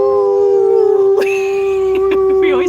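A dog howls nervously near the Arizona-side spillway of Hoover Dam, holding a steady, drawn-out wail that breaks into a few sharper yips and whimpers toward the end, loud and close.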